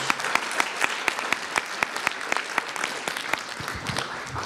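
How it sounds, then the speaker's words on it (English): Applause for a conference panel, a modest room of people clapping with distinct individual claps standing out in an uneven rhythm, fairly near and moderately loud. "Give a big applause to all the panel."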